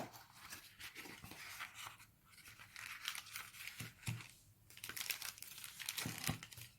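Crinkling and tearing of packaging as a CRKT Offbeat knife box is opened, a busy close-up rustle of irregular crackles and rips with short pauses.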